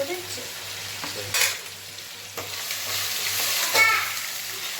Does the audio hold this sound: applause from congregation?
no